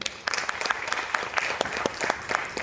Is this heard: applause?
yes